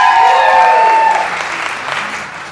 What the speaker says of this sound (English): Give him a big round of applause, folks.